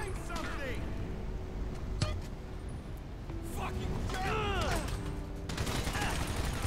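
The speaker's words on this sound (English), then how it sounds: "My allies are taking my bullets!" Gunfire in GTA 5, bursts of shots and sharp cracks over a dense game mix with engine and vehicle noise, loud and continuous, along with a voice talking.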